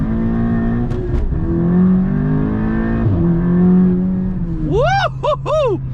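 An Audi S3 with all-wheel drive pulls away hard from a standstill, its engine note building steadily and loudly for several seconds, then a sharp burst of rising revs through quick gear changes near the end, with no talk over it.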